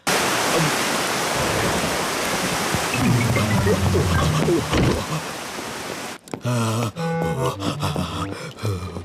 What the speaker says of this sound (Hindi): जल्दी करो डैडी पिग, अभी बारिश होने वाली है